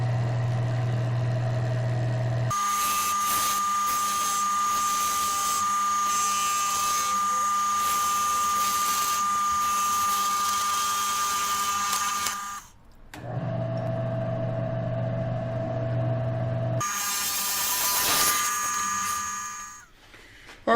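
A wood lathe spins a maple piece while it is parted off. A steady tonal motor hum runs throughout, with a bright, broadband cutting rasp that starts, stops briefly and resumes near the end.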